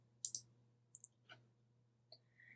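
Several crisp computer mouse clicks, a quick pair followed by single clicks spaced out, close and quiet against near silence, while setting up a WooCommerce website wizard.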